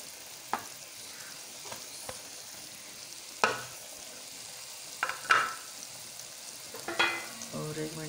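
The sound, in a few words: tinda curry with green chilies frying in a pan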